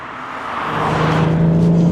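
A BMW M140i accelerating, its engine note rising steadily in pitch and loudness over a couple of seconds, heard close with a growing, strained drone.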